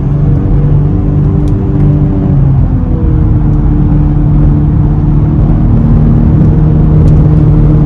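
Turbocharged engine of a 2022 BMW X7 40i pulling steadily under acceleration inside the cabin, a continuous loud drone with rising tonal harmonics and one brief shift dip partway through.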